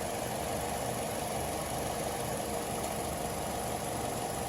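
A 2013 Toyota Corolla engine idles steadily through a transmission fluid check, a low continuous hum with a faint even knock and no change in speed, fairly quiet and without voices.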